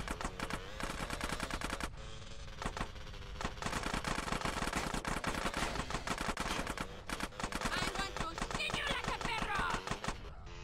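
Gunfire in the video game GTA San Andreas: rapid, sustained automatic shots hammering in a fast even rhythm, loud and close, with brief pauses between long bursts.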